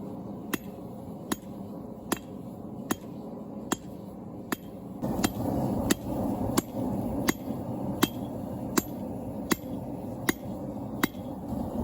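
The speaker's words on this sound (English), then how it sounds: "Here I start to taper down the stabby part of the knife." Hammer blows on hot steel as a saber knife blade is tapered at the forge, sharp ringing strikes landing at an even, unhurried pace of roughly one per second over a low background rumble.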